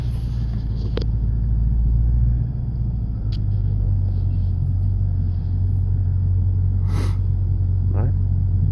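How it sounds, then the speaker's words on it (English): A Jeep SRT8 with a Borla exhaust cruising on a test drive, its low steady rumble filling the cabin throughout with a few faint clicks and squeaks on top. "we're in the Jeep and we're doing a test drive"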